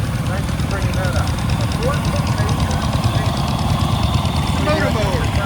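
An antique motor mower engine at a machinery parade chugs and idles steadily nearby, a loud, even mechanical rumble throughout, with people talking faintly in the background.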